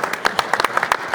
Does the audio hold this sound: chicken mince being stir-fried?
no